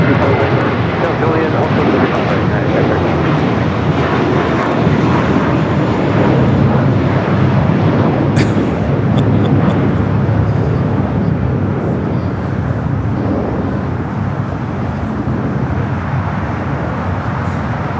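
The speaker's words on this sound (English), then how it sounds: "We do have an American Dreamliner heading back to Miami." An American Airlines Dreamliner departs with a loud, sustained broadband jet roar that fills the whole stretch, while a voice speaks over it.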